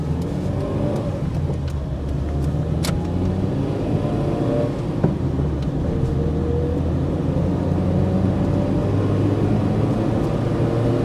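Engine of a Mk1 Vauxhall Astra saloon (Opel Kadett D) revving hard as it accelerates up through the gears in a 50 zone, a steady loud in-car drone with rising pitch sweeps and a brief gearchange dip.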